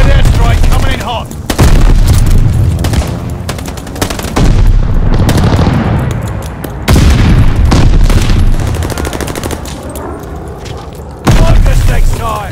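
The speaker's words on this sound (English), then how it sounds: "Allied airstrike coming in hot." Allied airstrike explosions rumble through Call of Duty Vanguard combat as heavy machine-gun bursts and booming blasts roll in loud, repeated waves over about twelve seconds, with a brief lull between barrages.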